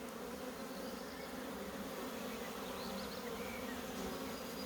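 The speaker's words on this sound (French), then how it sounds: "On frotte les abeilles. On en fait tomber un maximum en espérant que la reine soit dedans" A large April honey bee swarm hums in a dense, continuous buzz as the bees are brushed off into a hive, loud and close, with no voices over it.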